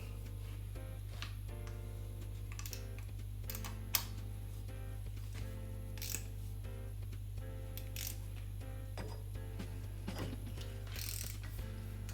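Repeated clicking of a big ratchet tightening a Land Rover Defender 110 front hub, quick runs of small mechanical clicks over a loud steady low hum, with a few sharper knocks.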